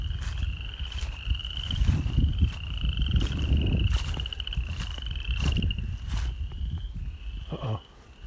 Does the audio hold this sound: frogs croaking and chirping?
yes